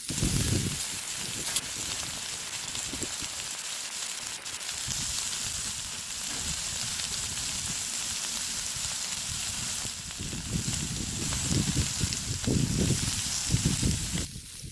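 Cabbage, sausage and bacon sizzle on a Blackstone griddle with a steady, broad hiss and crackle, close and continuous with some swelling and fading, and no voices.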